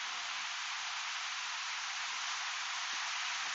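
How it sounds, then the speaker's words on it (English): Heavy rain falls steadily outdoors, a dense, even hiss with no pauses or voices, fairly faint and constant throughout. "we have had on and off very heavy rain"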